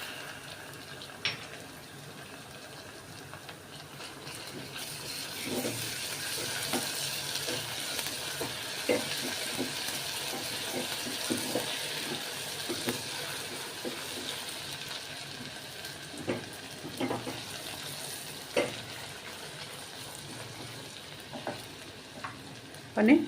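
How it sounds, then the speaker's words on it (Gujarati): Onions fry in a pan for a UP-style tehri, a steady soft sizzle with intermittent scraping stirs and light clinks, fairly quiet and close. "ડુંગળીને 2 મિનિટ પાકવા દેશું."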